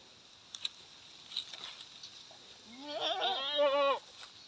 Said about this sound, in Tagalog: Kulungan ng kambing itong area na to.